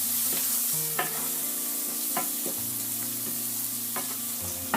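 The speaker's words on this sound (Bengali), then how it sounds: "দিয়ে আমি এখন এগুলিকে নেড়ে নেব।" Spices and okra being stirred in a frying pan for bhindi masala: a steady sizzle of frying runs throughout, with a few sharp scraping knocks of the spoon against the pan, close and clear, with no talking.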